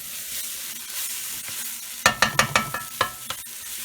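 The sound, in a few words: stirring Kashmiri red chili powder into masala in pan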